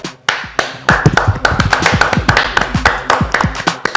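A studio audience claps at the opening of a Spanish-language legal advice show, a dense run of sharp, loud, near hand claps that stays strong throughout with no talking.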